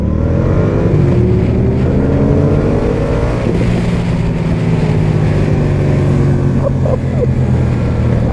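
A 2019 Yamaha MT-07 motorcycle engine revving loudly and close, with a continuous throaty roar and rising and falling pitch sweeps throughout.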